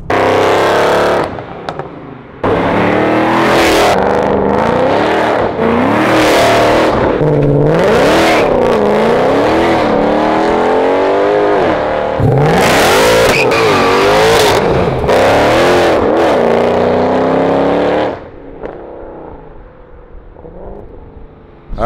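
A Weistec-built 2009 Mercedes C63 AMG, tuned to about 680 wheel horsepower, revs hard through a run of loud rising pulls, each broken by a sharp gear shift, before the engine settles into a quieter idle at the end.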